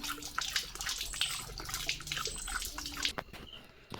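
Water splashes and drips from a broken tap outdoors, an uneven close gushing with intermittent spatters and drops, while chirping birds sound faintly in the background.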